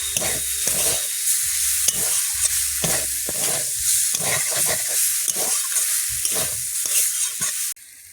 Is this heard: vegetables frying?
yes